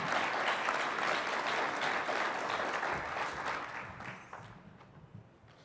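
Audience applause at a science fair awards ceremony, sustained clapping from a large crowd that thins out and fades toward the end.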